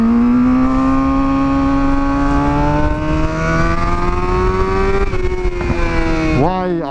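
A Suzuki GSX-R 750 motorcycle engine, a previously crashed bike, revs steadily under light throttle, its pitch climbing slowly before dropping abruptly as the throttle closes at the end.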